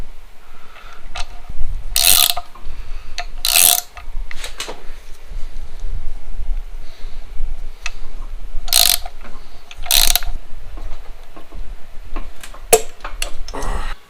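Ratchet wrench tightening the crank snout bolt and washer on a 4.2 liter 258 engine, close and loud, with several bursts of rapid clicking separated by pauses and faint mechanical handling between them.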